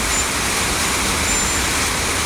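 Road traffic moves at a Guadalupe overpass during a heavy rainstorm. A constant loud roar of vehicles and wet road noise, with no talk.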